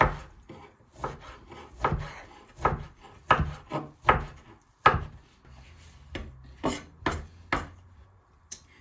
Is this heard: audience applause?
no